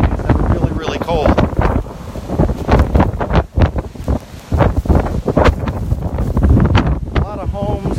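A roaring 60 mph wind gust batters the microphone at Wachusett Reservoir during a winter storm, loud and continuous with buffeting bursts and churning water beneath.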